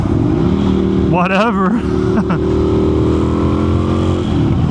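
An Indian FTR1200 motorcycle engine drones steadily, then revs up sharply with a rising, wavering whine after a downshift, loud and close, with a brief word spoken over it.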